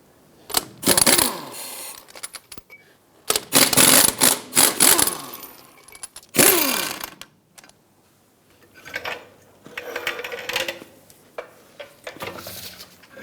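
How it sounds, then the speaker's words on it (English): An impact or power wrench spins 21mm lug nuts off a Ford F-450 Super Duty rear wheel, several loud whirring, rattling bursts of a second or two each separated by quiet pauses, close by. "Use a 21mm socket and remove all of your lug nuts."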